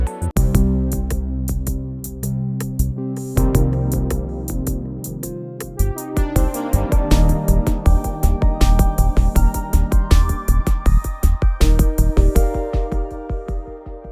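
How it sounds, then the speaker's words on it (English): A Roland Jupiter-XM synthesizer arpeggio, rapid repeating notes cycling through chords in a steady driving rhythm, loud and bright with shifting harmonies. "which is called the Arpeggio. This is a function that generates synth performances"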